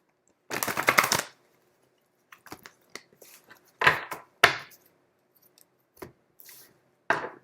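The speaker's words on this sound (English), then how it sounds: "Let me get a few shuffles." Tarot cards are riffle-shuffled in several distinct bursts: one long crisp riffle, then shorter flicks and taps spaced over a few seconds, close and fairly quiet with no talking.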